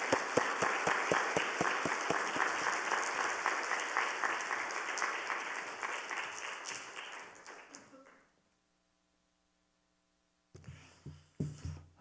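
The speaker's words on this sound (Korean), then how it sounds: "나오실 때 우리 뜨거운 박수로 환영하겠습니다" Warm applause from a Korean church congregation at a Friday worship service welcoming a guest preacher to the front, a dense crowd clapping in quick rhythm for about eight seconds before fading to silence, then a few faint scattered sounds near the end.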